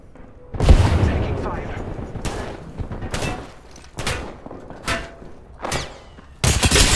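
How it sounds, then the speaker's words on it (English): A grenade blast booms in a first-person shooter video game, followed by several more sharp bursts of explosions and gunfire separated by short gaps, loud and close. "That's a nice nade."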